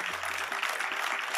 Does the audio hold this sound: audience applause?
yes